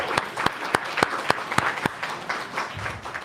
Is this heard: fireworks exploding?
no